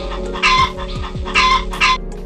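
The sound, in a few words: hen clucking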